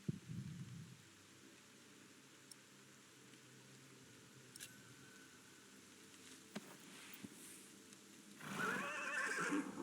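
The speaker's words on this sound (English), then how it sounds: "Let's take his horse." A horse in a medieval audio drama gives a loud whinny near the end, after soft hoof clip-clops and stirring in a quiet outdoor ambience, with no speech over it.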